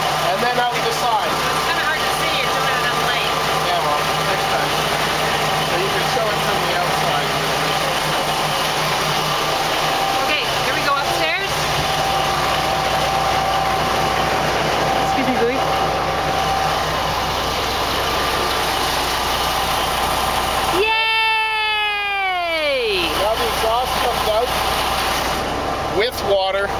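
A boat engine with a wet exhaust conversion runs steadily throughout, its exhaust passing through a wet muffler and out the side with water, a continuous close engine drone with a brief rising-falling whine near the end and talk over it.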